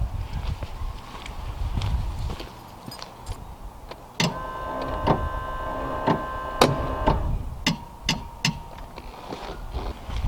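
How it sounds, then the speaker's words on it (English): A power antenna motor on a Mercedes 300SD whirs steadily as it drives the mast out to full extension, with sharp clicks and ticks over a low background rumble, close by. "I'm going to push the powered antenna motor until it's fully extended as far as it can go."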